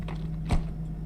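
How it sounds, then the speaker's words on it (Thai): A bottle opened once in the video game Closing Doors: a single short crack or pop over a steady low hum, with no talk. "เปิดขวด"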